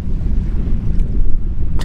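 Wind gusting across the microphone on a fishing boat at anchor, a steady low roar with buffeting bursts throughout, loud and close, with no talking.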